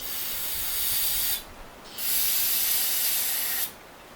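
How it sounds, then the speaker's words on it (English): Two long hissing bursts of carb cleaner sprayed into the open engine of a 1970 custom wide-body Corvette, close and loud, separated by a brief pause. "We're just going to do a quick test with some carb cleaner."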